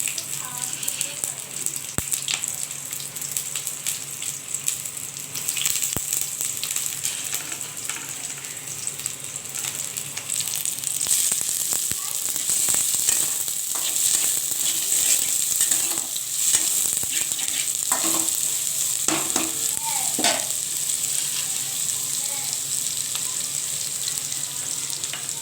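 Spices and chopped onion sizzling in mustard oil in a pan, a steady bright crackling fry that grows busier midway, with occasional clinks and scrapes of stirring close by.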